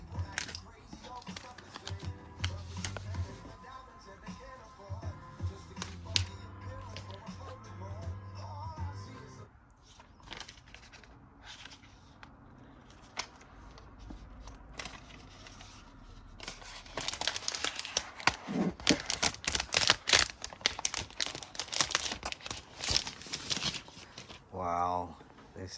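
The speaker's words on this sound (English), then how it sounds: "Let's unwrap this." Plastic and paper packaging of a 12.9 inch iPad Pro being unwrapped: close crinkling, rustling and tearing, growing louder and busier toward the end, with faint background noise.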